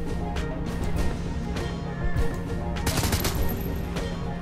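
Gunfire from an aimed shot in the video game Shadowrun: Hong Kong, several sharp bursts at steady loudness over a busy game soundtrack, with no talk.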